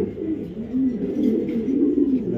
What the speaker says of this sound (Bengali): একটা মিলি পাইট রেসার মাদি কবুতর